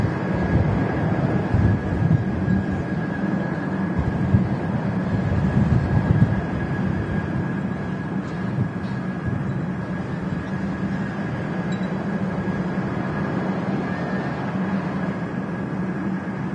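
Aircraft on approach to Manchester Airport in gusty wind, a steady, fairly distant broadband engine drone with a faint whine held evenly throughout, no talk over it.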